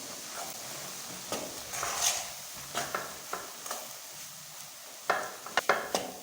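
A spoon stirs gram flour in ghee in a pan for besan barfi, giving soft scraping strokes and a low sizzle, with a few louder knocks of the spoon against the pan's side near the end.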